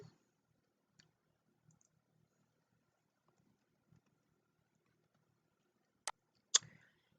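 Two sharp, quiet computer mouse clicks come in quick succession near the end, after a few fainter taps, in an otherwise near-silent room while quilt pattern pieces are arranged on screen.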